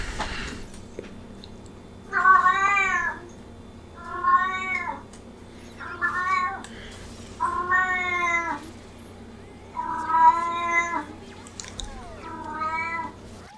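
A cat lets out a run of loud, drawn-out meows, about seven separate calls in an uneven rhythm, close and clear over a quiet background.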